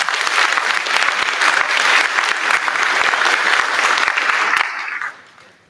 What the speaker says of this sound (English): Let's do a quick round of applause for Lisa.